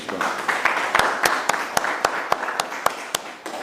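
Sharp, evenly spaced claps ring out over a steady crowd murmur at a Haitian reality show competition while contestants' point totals are read out, with a dozen or so distinct hand claps standing above the background.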